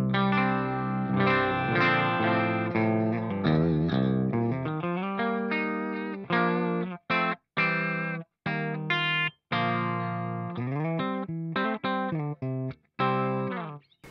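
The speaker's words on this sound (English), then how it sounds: "back off the mid-range and the bass a little bit and just boost a little bit of treble" Electric guitar played clean through a Boss Katana amp head, mids and bass backed off and treble boosted, giving bright, snappy chords and single notes in a continuous phrase with short choppy stops, alone without talk.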